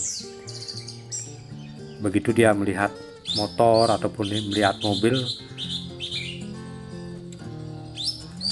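An orange-headed thrush kept at a roadside house sings loud, varied chirps and warbling phrases in bursts, while someone talks over parts of the song.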